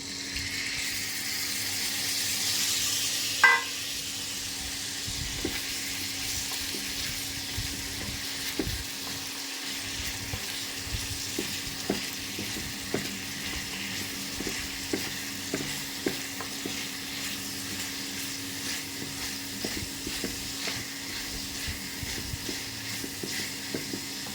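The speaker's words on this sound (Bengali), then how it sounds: "এখন পেঁয়াজ রসুন আদা দিয়ে দিলাম।" Onion, garlic and ginger fry in oil in a pan with already-fried potatoes for a tengra fish curry, giving a long, even sizzle with soft, scattered stirring taps throughout.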